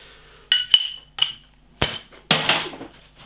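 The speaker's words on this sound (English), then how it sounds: "Let's get the beer out into a glass and see what we get." A bottle of Uiltje SGT Night Vision imperial stout handled on a hard surface, with several sharp glassy clinks and knocks followed by a brief pouring rush into a glass, close and without talk.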